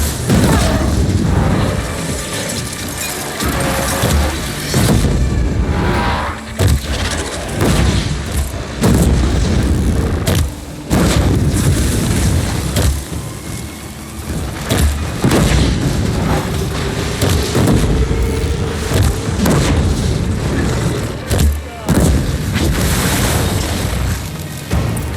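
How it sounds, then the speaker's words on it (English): Repeated bomb blasts in Horizon Zero Dawn, loud booming bursts that hit again and again at irregular intervals over a dense, rumbling game soundscape, with no voices over them. "Alright, time to bomb them."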